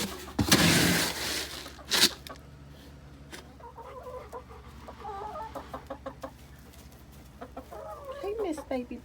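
Easter Egger hens cluck and chatter in a backyard flock, a mother hen and the chick she hatched among them, the calls coming in short irregular bursts that build toward the end, with a loud rustle or knock near the start.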